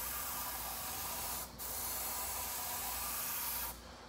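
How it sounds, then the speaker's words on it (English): Aerosol spray paint hissing onto an RC car body to make a splatter effect, a steady close hiss with two brief pauses, no talk. "So I'm just spraying."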